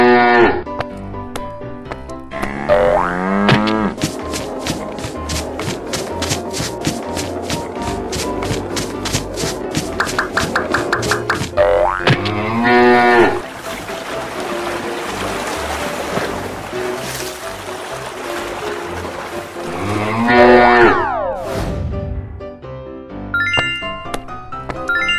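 Cartoon cow mooing: several long, drawn-out moos rise and fall over busy background music with chimes and effects, loud and close throughout.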